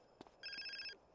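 Telephone ringing in the video game Grand Theft Auto San Andreas: a short electronic ring tone of about half a second, clear and moderately loud, following a couple of faint knocks, with no talk.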